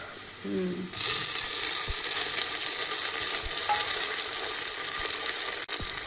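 Tomatoes hitting browned onions in a hot pan for spicy dal, a loud steady sizzle that jumps up suddenly after a quieter start and carries on with faint stirring clicks, no talking.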